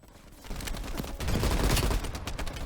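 Machine gun fire rattles in Call of Duty Black Ops Cold War, a dense and continuous stream of loud rapid shots that swells in the second half with no pauses.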